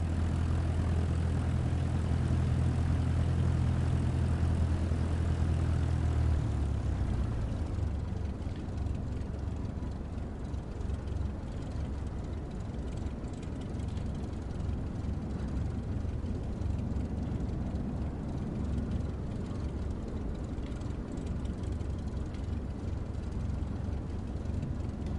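A Cessna propeller plane at full throttle for takeoff in Microsoft Flight Simulator 2024, a loud, steady engine drone whose low hum shifts after several seconds into a rougher, broadband roar that holds constant, with no talking.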